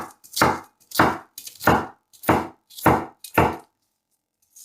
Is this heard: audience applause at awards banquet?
no